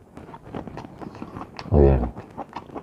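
Biting and chewing on roasted beef and king crab leg at a mukbang meal, soft wet chewing close to the mic and a brief louder voiced sound partway through.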